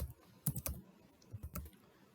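Typing on a computer keyboard, close and fairly quiet, in two short bursts of several key clicks separated by a brief pause, with no speech.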